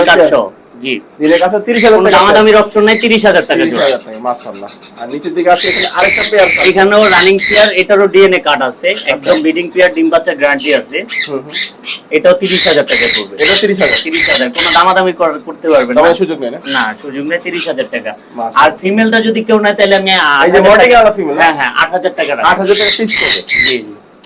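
Blue and lutino ringneck parakeets, sunchecks, greenchecks and sun conures kept together, giving loud, harsh repeated squawks and screeches in dense bursts throughout, with brief pauses between outbreaks of calling.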